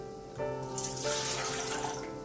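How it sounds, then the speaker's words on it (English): Lukewarm water pours steadily from a tap or jug into a mixing pan for a sprouted sweet loaf, a continuous close splashing stream starting after a brief quiet moment. "The first thing we do is place our water inside"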